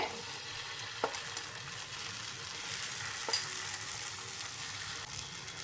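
Wheat flour and spinach dosa batter sizzles on an oiled griddle over medium heat: a steady, fairly soft hiss with a couple of faint clicks, and no talking.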